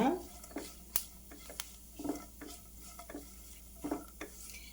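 Ingredients dry-roasting in a pan over a low flame for caramel kheer, with quiet scraping stirs and scattered soft clinks of a utensil against the pan, faint and close.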